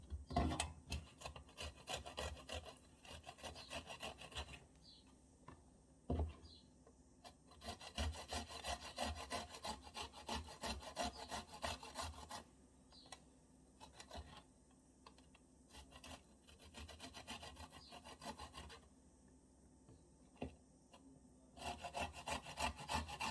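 An onion rubbed against a grater, giving a steady run of close, rhythmic rasping strokes with a few short pauses.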